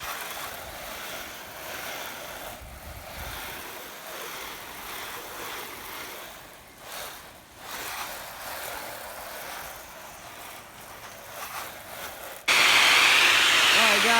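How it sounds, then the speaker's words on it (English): Water from a ball valve rinses house siding after a soft wash, a steady broadband hiss with small level shifts throughout, then a sudden louder, harsher surge of spray near the end. "Now we're just using the ball valve to rinse"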